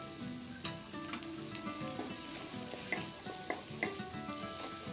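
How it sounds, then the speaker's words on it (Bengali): Salt, turmeric, coriander and cumin sizzle steadily in a hot pan, with occasional scraping clicks as they are stirred, close and continuous. "তারপর দেখুন মশলাগুলো আমি দিয়ে দেবো, নুন, হলুদ, ধনে, জিরে।"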